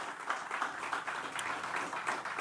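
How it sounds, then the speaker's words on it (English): Light applause from an audience at the opening and ribbon-cutting ceremony for a new learning center, a steady patter of clapping heard alone for a couple of seconds. "I think that deserves a round of applause."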